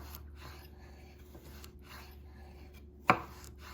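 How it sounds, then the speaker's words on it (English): Chef's knife cutting food on a cutting board with a swiping stroke: one sharp, close knock of the blade against the board near the end, after a quiet stretch of faint rustling, with no speech. "Notice how I don't lift the knife completely off of the board. It's a swiping motion."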